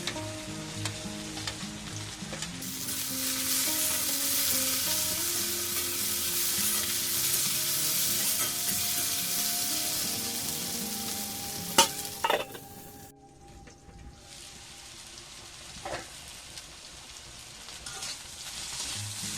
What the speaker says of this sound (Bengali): এবার আমি বেগুনটা ভেজে নেবো আলুর সাথে